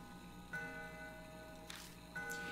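Soft ticks and clicks from an antique grandfather clock in the video game Death Mark, a few scattered hits sitting over a steady humming ambient background.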